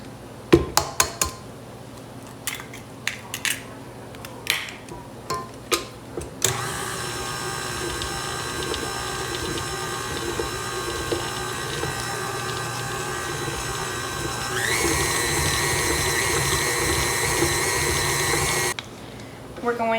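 Light clinks and handling give way to an electric mixer beating batter with an egg in a bowl: a steady whirring motor that steps up in speed, then cuts off abruptly. A person talks over parts of it.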